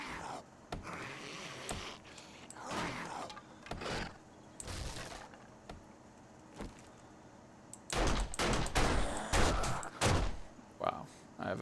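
Bursts of gunfire ring out in the video game 7 Days to Die, scattered sharp shots and rapid volleys that cluster heavily toward the end, with a voice talking between them.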